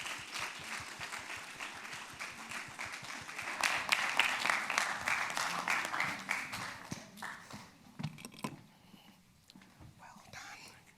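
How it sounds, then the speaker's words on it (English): Audience at a business forum closing address claps for a speaker, a fairly faint, loose patter of hands that swells briefly and then thins out into scattered claps and murmurs. "Please give her a round of applause."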